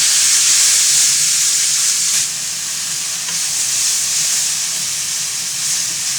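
Chicken vermicelli noodles stir-fried in a hot pan, a loud continuous sizzle and hiss with steady stirring scrapes, close up and without talk.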